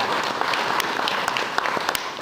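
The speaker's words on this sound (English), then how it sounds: "give them a round of applause" Audience applause at a volunteer forum in Broadford, a dense steady wash of many hands clapping from start to finish with no one speaking over it.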